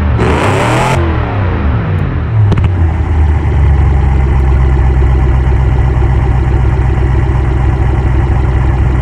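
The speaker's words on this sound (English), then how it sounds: "The idling sound is just brutal." A muscle car engine in the Automation game cranks, fires up and settles into a loud, steady, rumbling idle with a deep throbbing pulse close up.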